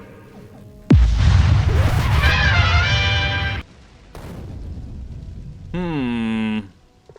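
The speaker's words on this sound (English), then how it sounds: "interrupt those skits with a very abrupt explosion" Abrupt explosion breaking into a comedic game skit for Factorio 2: a sudden loud blast followed by a sustained rumbling roar that cuts off sharply, then quieter noises and a brief warbling tone.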